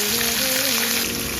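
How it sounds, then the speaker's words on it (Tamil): Onions and garlic sautéing in a pan with rock salt, a steady close sizzle and hiss that runs unbroken throughout with no pauses. "பொன்னிறமாக மாறினதுக்கப்புறம் பூண்டு, தொடர்ந்து வெங்காயத்தை கொட்டி வதக்கணும்"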